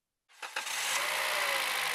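A car engine cranks with a few quick stuttering bursts, then catches and settles into a steady, loud idle, recorded close up during ignition testing of a defective coil-on-plug setup.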